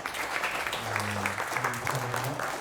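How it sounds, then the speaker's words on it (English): A crowd applauding steadily, a dense wash of clapping with a voice speaking over it. "give me a round of applause for Kareem, please."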